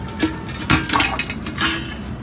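A dented metal pot and its lid from an old ship's kitchen, handled up close with a quick run of clanks, clinks and metallic scrapes.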